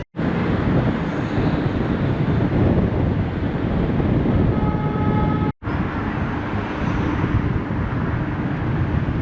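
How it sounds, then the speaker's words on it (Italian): Strong wind buffets the microphone on a bridge with statues in Tbilisi, a loud, steady broadband roar that fills the whole stretch, with one brief dropout near the middle and no voices. "e tanto vento."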